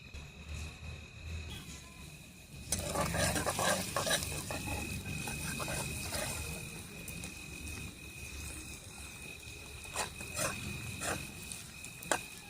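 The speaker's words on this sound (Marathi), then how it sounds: "थोडंसं मी यामध्ये लसूण आणि अद्रकचं वाटून घेतलेलं पेस्ट टाकत आहे." Ground garlic and ginger paste sizzles in a hot pan, a soft hiss that rises when the paste goes in, with stirring and occasional scrapes close by at low volume.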